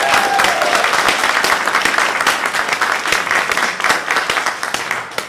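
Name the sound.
audience applause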